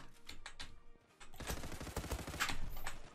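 Fast gunfire in the Zula shooting game, rapid automatic bursts: a lighter run of shots, a brief pause, then a denser, louder volley of closely spaced cracks.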